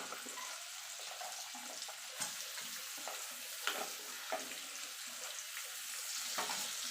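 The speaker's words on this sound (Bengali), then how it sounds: "পেঁয়াজটাকে একটু গোল্ডেন করে ভেজে নেব।" A large chopped onion sizzles in hot oil for rajma masala, with soft stirring and scraping strokes over a steady, fairly quiet frying hiss and no voices.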